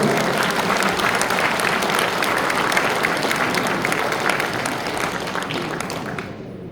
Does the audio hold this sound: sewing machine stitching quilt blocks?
no